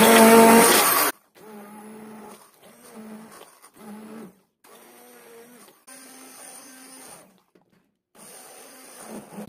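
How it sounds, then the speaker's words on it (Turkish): A blender purees cooked peaches in a series of short, loud pulses separated by brief pauses, with a harsher burst of noise at the very start. "Hemen şimdi blender ile güzelce parçalıyoruz."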